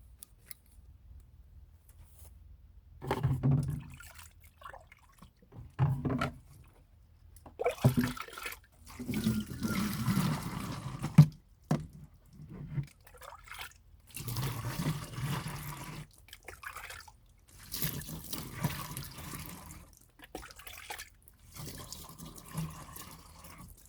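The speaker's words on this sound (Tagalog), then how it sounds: "buhusan ko nga na konti ng tubig" Water poured from a container onto creeping garden plants, splashing and trickling in several uneven bursts with short pauses between, close and moderately loud, with no talking over it.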